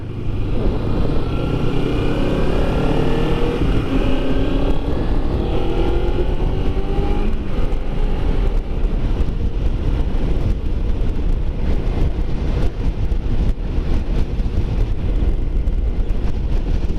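A Kawasaki Ninja 300 motorcycle accelerates on a highway, its engine a loud, steady roar with a rising whine through the gears, blended with heavy wind rush throughout.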